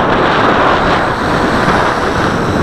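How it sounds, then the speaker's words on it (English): Strong gusts batter the microphone outdoors during a quadcopter flight on a windy day, a loud, continuous roaring rush with no break and no voices. "I'm not kidding about the wind."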